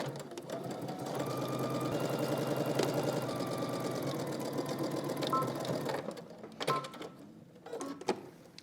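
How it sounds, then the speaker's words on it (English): A sewing machine stitches a long seam on a dress tie, pivots and closes the end, a close, steady rapid whir for about six seconds before stopping, followed by a few short clicks and handling noises. "We're gonna stitch along the long end, and then we're going to pivot and stitch and close the bottom end."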